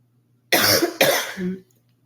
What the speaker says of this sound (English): apologies if I coughed in your ear